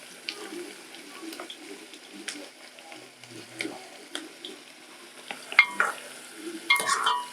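Mukimo frying in a pan with scraping stirring strokes, irregular clatter and sizzle, getting busier toward the end.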